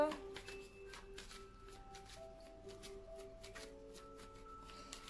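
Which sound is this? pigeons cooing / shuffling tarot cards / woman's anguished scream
shuffling tarot cards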